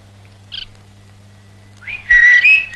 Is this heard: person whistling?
yes